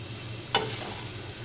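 Chicken chow mein being stirred in a pan, with a single quick scrape or clink over a low, steady frying hiss.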